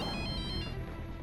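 A telephone rings indoors, a continuous bright ringtone filling the whole moment at moderate loudness, with no voices over it.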